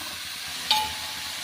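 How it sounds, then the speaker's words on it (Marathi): Soybeans go into a pan of onions frying with salt, giving a steady sizzling hiss with a brief clink near the middle, close and moderately loud, no voices. "आता यामध्ये आपण सोयाबीन टाकूया"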